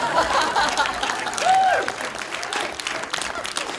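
Audience applause at a question-and-answer session for the film The Last Saint, steady and fairly loud clapping from a crowd as cast members are called down, with a brief tonal whistle-like sound partway through.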